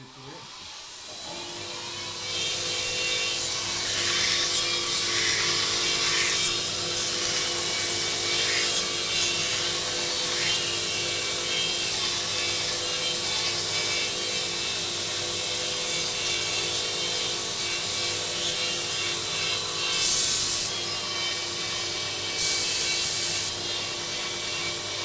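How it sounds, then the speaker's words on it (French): Belt grinder running an 80-grit belt to refine the first cut of a knife blank in a cutlery workshop in Ajaccio, giving a loud, steady abrasive hiss and whine that persists throughout with brief surges of grinding. "je vais passer au backstang avec un grain 80"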